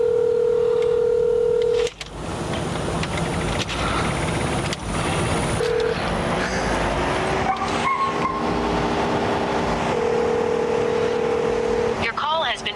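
A phone call is dialed, with steady electronic tones sounding at the start and again later over a noisy outdoor background of passing vehicles and faint voices.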